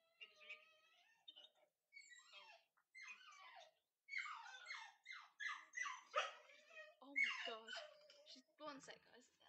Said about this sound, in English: I can't with my dog in the background.